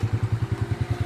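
A motorcycle engine idles at a crowded Eid prayer gathering where many motorcycles are parked. It throbs with a steady, rapid, even rhythm, close and fairly loud.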